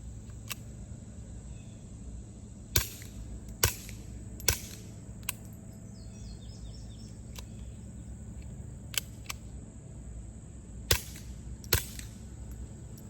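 Sharp, isolated gunshots from a Sylvan Arms TomCat .22 loaded with Ely 38-grain subsonic hollow points, fired at 5 yards: several crisp cracks spaced seconds apart over a quiet hum, some close together in pairs.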